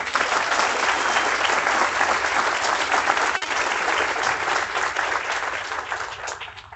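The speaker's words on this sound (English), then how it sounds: "Please give them a round of applause as well." An audience at a faculty and staff meeting claps in sustained, dense applause, steady and fairly loud throughout before easing slightly at the end, with no voices over it.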